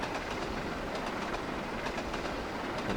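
A train rolls steadily downhill on rails in Trainz, a simulator game, as a continuous rumbling run with faint rhythmic clicks of wheels over rail joints, heard alone with no talk.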